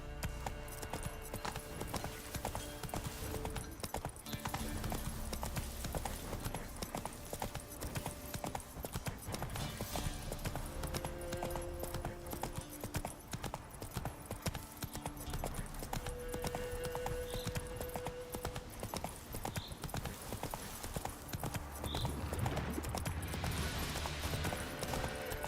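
Horse hooves clip-clopping during riding in The Witcher 3: a steady, continuous gait under dense game ambience and music, with occasional faint tones, lasting throughout.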